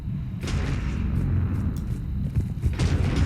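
Heavy ship main cannons fire in Mass Effect 3, a series of deep booming shots with sharp cracks spaced irregularly over a low rumbling background, loud and fairly close.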